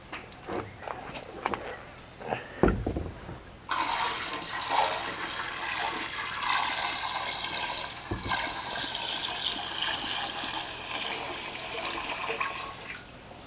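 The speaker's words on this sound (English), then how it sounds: "The juice runs down the outside and is collected in the bucket and is poured into this container to start the fermentation." Fresh-pressed apple juice for cider pours steadily from a bucket into a fermentation container, a continuous splashing gush that runs for about ten seconds after a few clunks and knocks.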